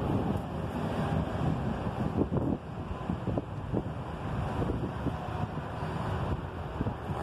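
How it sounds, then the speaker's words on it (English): Wind blows steadily outdoors and buffets the microphone with a constant rumbling roar; no one speaks. "A little windy today."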